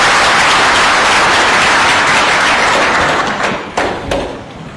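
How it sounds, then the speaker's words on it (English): A loud, dense burst of applause from a summit audience greeting the panelists, sustained clapping that fills the room and then thins out toward the end, with a few scattered claps trailing off. "Please, let's give them a warm round of applause as we begin our conversation"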